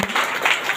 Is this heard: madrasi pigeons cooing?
no